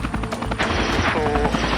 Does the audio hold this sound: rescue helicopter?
yes